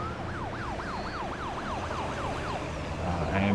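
A game ambulance in SimCity 2013 wails with a rapid up-down siren, about eight sweeping cycles over a steady city hum. It sounds fairly distant, and no one speaks.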